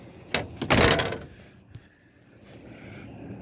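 An old 1961 Comet car door swings open from the inside handle, a close burst of latch clunks and a metallic release around one second, then a small click and quiet room tone.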